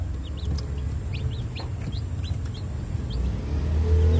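Chickens cluck and chicks chirp in short, scattered peeps over a steady low background rumble, with no one speaking.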